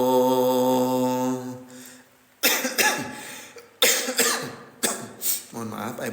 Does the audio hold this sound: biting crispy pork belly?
no